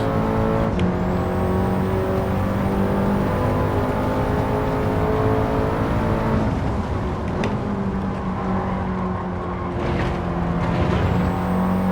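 A race car in Gran Turismo 7 drones loudly and continuously, its engine pitch climbing and dropping through gear changes and corners, with a few sharp transient clicks.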